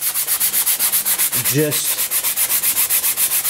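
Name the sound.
sanding with a flat sanding block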